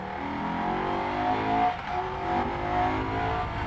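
A Moto Guzzi Stelvio motorcycle accelerates hard, its engine note climbing in pitch through a loud, close rising drone with a brief dip partway as it pulls forward.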